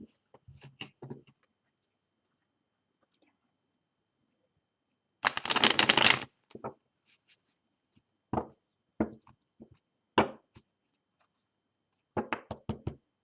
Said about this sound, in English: do a good shuffle